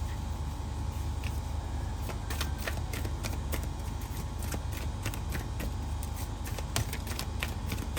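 Tarot cards are shuffled and drawn from a deck, a quick series of sharp, clicky card snaps and flicks over a steady low background hum, without speech.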